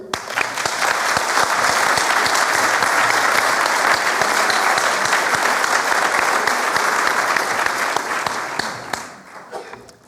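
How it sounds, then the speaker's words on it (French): Loud, sustained applause from a crowd at a political rally in Poitiers, dense clapping that holds steady for several seconds before tapering off at the end. "Vous pouvez l'applaudir."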